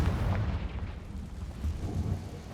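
Confringo fire spell explosions in the video game Hogwarts Legacy, a continuous low rumbling boom that rolls steadily through the whole stretch with no voices over it.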